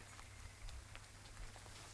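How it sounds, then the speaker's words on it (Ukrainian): Soft, steady patter of light rain on leaves and surfaces, with scattered individual drops ticking through a continuous hiss; no voices. "Маленький дощик."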